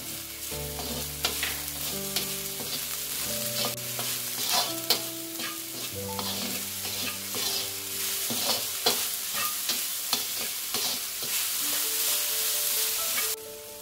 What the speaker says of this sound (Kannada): ಸ್ವಲ್ಪ ಹುರಿಬೇಕು ಇದು ಬ್ರೌನ್ ಕಲರ್ ಆಗೋವರೆಗೆ.